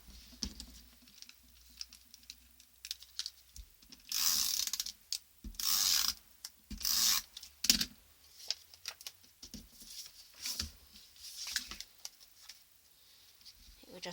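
Stampin' Up Snail adhesive tape runner laying glue on paper: several short, buzzy rolling rasps, close and fairly loud, between quieter rustling and handling noises.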